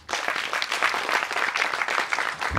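Audience applause for actress Poorna at a Tamil film event, a dense, steady clapping crowd filling the whole stretch with no voices on top.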